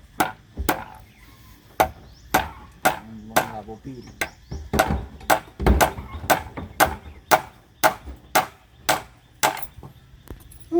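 Repeated sharp hammer blows driving nails at a fairly regular pace, close and loud, with brief gaps between the strikes, during bathroom construction.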